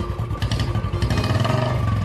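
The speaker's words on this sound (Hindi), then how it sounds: "बाहर से एक बुलेट बाइक जाने का आवाज आया।" A Royal Enfield Bullet-style motorbike passing outside a house, its engine a steady, throbbing mid-distance rumble with a clattery mechanical edge that holds fairly loud for a couple of seconds, with no one speaking.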